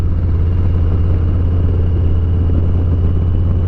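Harley-Davidson Heritage Classic with a 114 engine, stage 1 tune, high-flow air filter and Vance & Hines Eliminator 300 slip-on mufflers, idling with a steady, deep, loud rumble that holds constant throughout.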